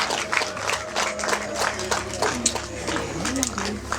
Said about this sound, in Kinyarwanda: Amashyi menshi, amashyi menshi.